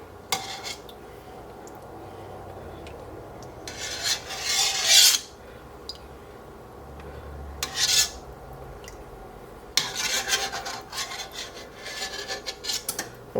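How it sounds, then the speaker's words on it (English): A small metal sieve scrapes and rubs against a soup pot while skimming scum and fat off broth, in several separate bursts of raspy scraping, close up with no talk. "They are so handy for scooping the scum off of things."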